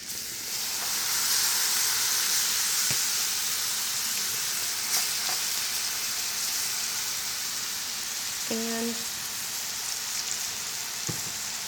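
Cubed puffball mushroom sizzles in a pan of softened vegetables, a steady, loud frying hiss that holds throughout, with a few faint clinks from the pan.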